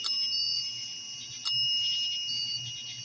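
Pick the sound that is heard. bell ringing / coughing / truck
bell ringing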